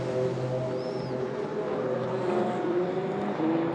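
An endurance race car at Spa-Francorchamps during the 2016 FIA WEC 6 Hours gives a steady, sustained engine roar that fills the whole stretch without a clear rise or fall.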